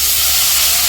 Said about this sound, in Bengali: পেঁয়াজ আর কাঁচামরিচ দিয়ে দিছে কড়াইয়ে